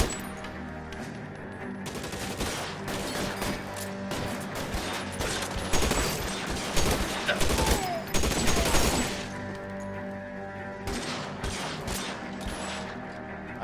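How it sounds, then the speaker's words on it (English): Sustained gunfire in the video game L.A. Noire Remastered, with overlapping automatic bursts and single shots forming a dense, loud fusillade that eases briefly before flaring up again, carrying no speech. "Lay down some covering fire."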